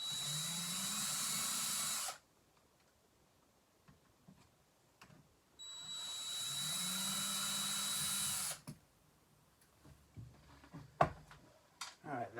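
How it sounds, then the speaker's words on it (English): A power drill whirs in two sustained bursts of a couple of seconds each, removing screws from an AutoTrickler V3, with a pause between, followed by scattered clicks and clatter of handling. "Or a drill, so."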